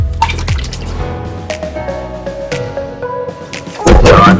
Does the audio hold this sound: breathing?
no